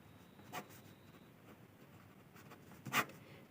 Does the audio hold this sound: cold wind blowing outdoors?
no